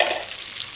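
Vegetables frying in oil in a pan for Bengali-style khichdi, a steady close sizzle with faint stirring, brief and alone.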